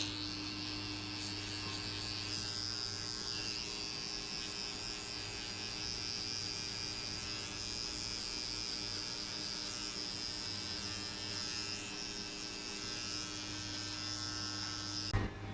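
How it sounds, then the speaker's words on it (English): An electric hair trimmer runs steadily during a buzz cut, clearing the line between the super zero and zero lengths; a close, even electric buzz with a steady hum throughout, no talk, and a small click at the very end. "grab your trimmer and just get rid of this line between the super zero and the zero"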